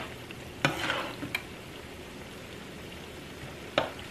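Onions frying in a pot give a soft, continuous sizzle, broken by a few sharp scraping knocks of a utensil stirring them. The sound is close and moderately quiet, with no talking.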